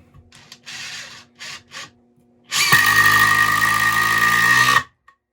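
A Makita impact driver runs at speed setting 4, a loud high-pitched whine that holds steady for about two seconds before cutting off, following some quieter handling noises.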